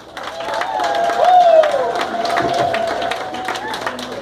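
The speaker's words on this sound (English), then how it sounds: "Est-ce qu'on peut applaudir les parents?" Crowd at a Congolese community graduation party in Cincinnati applauding the parents, steady clapping with some cheering and overlapping voices, a whistled or sung tone rising through the middle.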